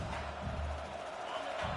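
A large stadium crowd at a football game roars in a steady, dense wash of cheering and noise, loud and sustained throughout.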